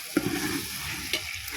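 Masala paste for chicken biryani frying in a pan, heard as a close, continuous sizzle with a couple of scraping stirs, loud and alone.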